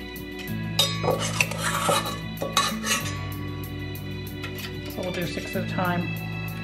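Chicken wings go onto a baking sheet in a kitchen, with metallic clinks and scrapes of utensils and pan beneath steady talk and a low background hum.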